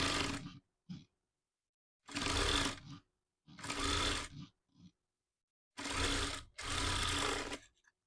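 Sewing machine stitching lining onto a designer sleeve, close and loud whirring runs of a second or so each, started and stopped repeatedly with short silent gaps and a few brief taps between.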